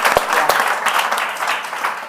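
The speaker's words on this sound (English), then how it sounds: "can we just give Universal Pictures a round of applause?" An audience claps in a brief burst of steady applause at a talk event, filling the room evenly and loudly throughout.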